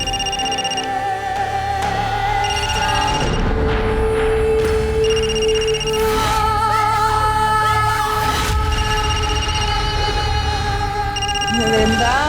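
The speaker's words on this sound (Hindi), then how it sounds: "किसका फोन है? कब से बजे जा रहा है?" A telephone rings repeatedly in a tense indoor crime-drama scene, its bright electronic trill returning in regular bursts over background music and tones at a steady, fairly loud level.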